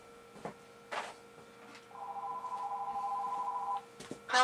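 A mobile phone rings in a workshop during work on a Glock pistol, giving a warbling electronic ringtone that holds for a couple of seconds amid a few clicks and handling noises.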